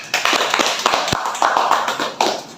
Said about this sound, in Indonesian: Kita beri aplaus buat